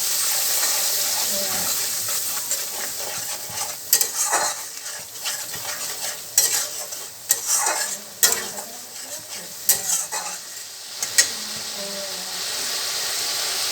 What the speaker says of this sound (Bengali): দেড় চামচ জিরে গুঁড়ো দিলাম ও একটু জল দিয়ে দিলাম দিয়ে ভালো করে কষিয়ে নেবো